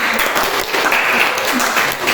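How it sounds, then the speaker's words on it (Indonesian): Schoolchildren in a classroom clap together after a correct answer, a lively, even burst of hand claps with faint voices mixed in. "Tepuk tangan."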